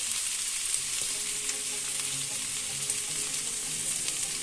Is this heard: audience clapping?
no